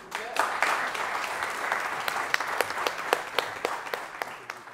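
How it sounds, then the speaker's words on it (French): An audience applauds at a ceremony where a master is decorated as Chevalier of the National Order, with dense clapping and sharper individual claps standing out as it goes on, while a voice talks over it. "Merci d'applaudir"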